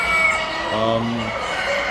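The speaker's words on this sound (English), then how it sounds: "This is quite an old hen." An old Ayam Cemani hen gives a short drawn-out cluck close by, a single vocal call over a steady background murmur.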